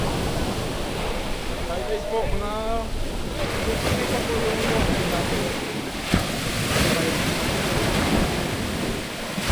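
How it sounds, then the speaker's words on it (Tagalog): Strong ocean waves surge at high tide on a Boracay shoreline, a steady loud wash of surf with wind noise on the microphone throughout, and a brief tonal sound early on. "Oh, alon. High tide na yun, alon."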